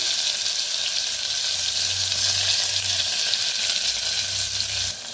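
Asafoetida and crushed green garlic paste frying in hot oil, a loud continuous close sizzle with a low bubbling rumble, ending slightly quieter.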